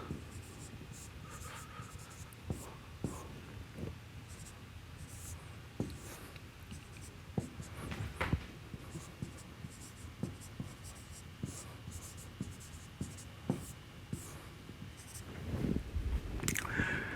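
Marker or chalk taps and scratches across a board while a differential equation is worked out, faint irregular strokes and clicks spread over a quiet room with soft voice sounds in the background.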